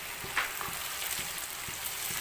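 Onions and chopped tomatoes sautéing in a pan for chicken biryani, a steady, soft sizzle with faint stirring taps.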